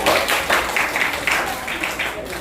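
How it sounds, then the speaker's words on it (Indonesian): Classroom applause after a sung poetry performance: a steady burst of many hands clapping throughout, fairly loud and dense, with a room murmur underneath. "Terima kasih, tepuk tangan sekali lagi."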